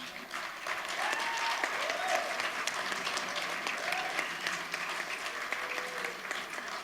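Audience applause at an award ceremony fills the room steadily for about seven seconds, a dense wash of many hands with faint voices rising briefly underneath.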